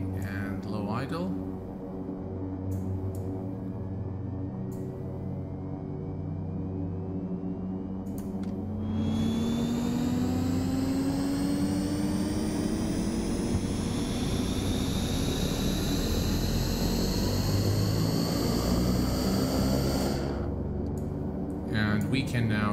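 A Beechcraft King Air 350 turboprop runs in X-Plane 11, a loud steady engine roar with a high whine that climbs in pitch as it spools up, then holds before easing near the end.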